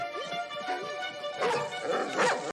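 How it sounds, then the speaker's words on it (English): A mean, scary black dog in an animated film gives a couple of loud, harmonic barking and snarling bursts, the second and third rising stronger toward the end. "scary black dog."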